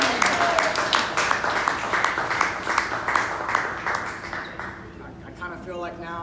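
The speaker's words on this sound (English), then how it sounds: "y'all clap if you want, go ahead" A crowd claps in a rhythmic burst that gradually fades, with talking mixed in underneath.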